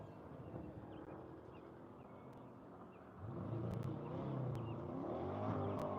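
An AMG race car pulls away from the start line at Grattan during the One Lap of America, a distant engine rising in a steady surge over wind noise, growing louder and fuller partway through.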